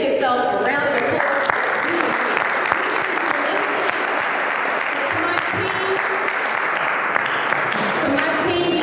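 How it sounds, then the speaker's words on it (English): An audience at a youth conference applauds a young man, a steady, loud roar of clapping sustained for the whole stretch, with voices and cheers mixed into the crowd noise. "Young man, give yourself a round of applause."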